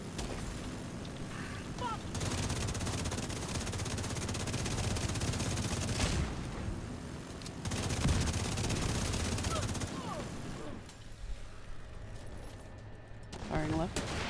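Mounted gun fire in The Division 2 video game, long bursts of rapid automatic shots in several stretches with brief pauses between, loud and close, with game sounds mixed in.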